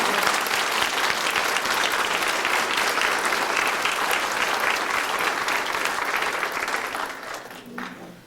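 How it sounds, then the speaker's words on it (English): An audience at a community band Christmas concert breaks into loud, sustained applause that holds steady for several seconds and then tapers off, with faint voices near the end. "But give a big round of applause to Julie"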